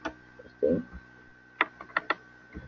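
A few scattered keystrokes on a computer keyboard, with a short soft thump and sparse clicks over a quiet low hum, typed while filling in a field in a browser-based application.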